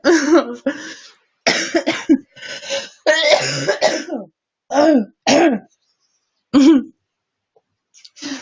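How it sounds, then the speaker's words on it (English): A series of throat clearings and short coughs, close by, coming in separate bursts with brief pauses between them. "I'm trying not to cough"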